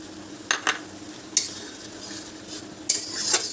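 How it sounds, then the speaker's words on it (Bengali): Cashew paste stir-fried with spices for a cuttlefish curry: several sharp spatula scrapes and clinks against the pan, with a faint sizzle underneath, no voice. "এটাকে একটু ভেজে নেব।"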